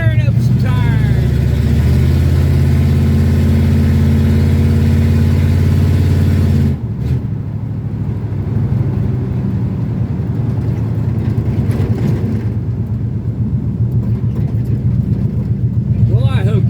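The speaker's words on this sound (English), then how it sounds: "Tearing up some tires." A 1954 Chevrolet Bel Air two-door hardtop hot rod roars loud and close in a sustained low engine drone, dipping briefly and then building again as its tires are torn up in a burnout on concrete.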